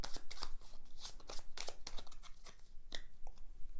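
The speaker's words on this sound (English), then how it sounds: "is immediately resolved by shuffling it and the discard pile back into the rest of the task deck to form a new task deck" A deck of cards for the board game Dawn of Peacemakers is shuffled close up, giving a rapid series of crisp riffling flutters and snaps that continue in bursts with no talking.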